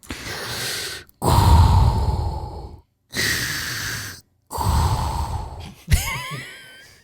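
A person imitates heavy, mechanical mask breathing: several long rasping inhales and exhales in a slow cycle, ending with a whistling sound.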